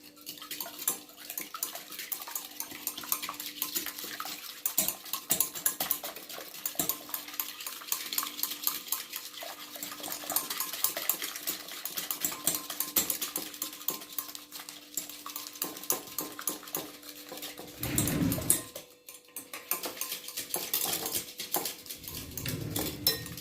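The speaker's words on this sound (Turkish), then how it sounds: "Ve güzelce de çırpmaya devam ediyorum." A whisk beats batter seasoned with salt and vinegar in a bowl for a savory potato börek, giving a steady, continuous scraping and sloshing that stays close and busy throughout, with one brief louder clatter near the end.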